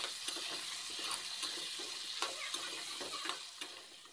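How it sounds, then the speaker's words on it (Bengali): Diced potatoes with a little salt and turmeric fry in oil, giving a faint, steady sizzle with light scattered ticks and no voices. "আলুটা ভাজার সময় সামান্য একটু লবণ আর হলুদ দিয়ে তারপরে আলুটাকে ভেজে নিচ্ছি"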